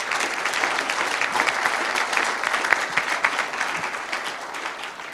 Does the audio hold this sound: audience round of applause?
yes